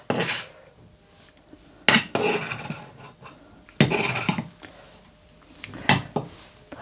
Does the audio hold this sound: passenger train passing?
no